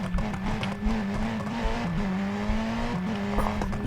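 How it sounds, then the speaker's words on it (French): A racing car in BeamNG.drive holds a steady engine drone, broken by several short crackling exhaust pops and small pitch shifts, fairly quiet, with no voices. "Oh, les petits retours, quoi, les retours d'échappement."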